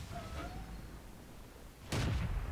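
A heavy tank cannon fires once in World of Tanks, a sudden loud boom with a rumbling tail after a stretch of engine drone, while a faint tone whistles early on.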